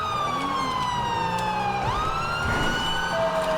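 A police car siren from the GTA 5 LSPDFR police mod wails steadily, its pitch sliding and dropping in a long continuous sweep, close and loud, over a low rumble of vehicle noise.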